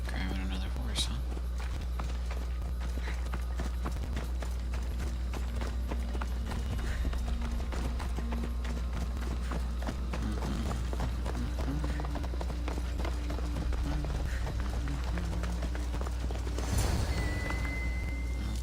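Steady hoofbeats of a horse running in Assassin's Creed: Odyssey, rhythmic and continuous, with a low ambient drone and voices murmuring beneath.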